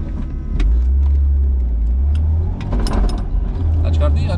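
A car engine roars loud and close as the driver accelerates and holds a drift on a track, with sustained throttle, slight dips and surges, and the clatter of tires and mechanisms.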